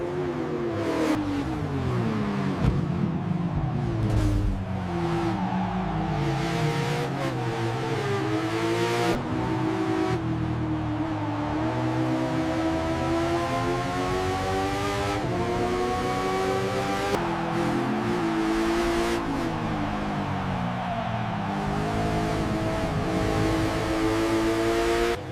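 In a racing video game at Spa, a Ducati motorcycle and a Bugatti Bolide scream through the corners, high-revving engines climbing and dropping through gear changes continuously and loudly, with no talking.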